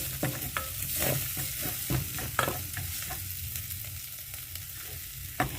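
Egg curry cooks in a pan, a soft sizzle and bubbling with a few sharp utensil clicks and pops, close but quiet, no one talking.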